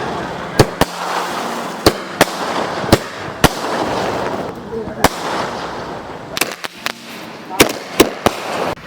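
Sivakasi Supreme brand firecrackers burst at night, with a dozen or so sharp, loud cracks spaced irregularly over a crowded, murmuring outdoor background, some coming in quick pairs.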